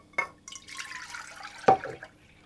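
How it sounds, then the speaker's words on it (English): Two cups of milk poured into a saucepan, a soft, faint liquid splash and trickle lasting a couple of seconds, with a small clink or drip near the end. "place my 2 cups of milk into a saucepan"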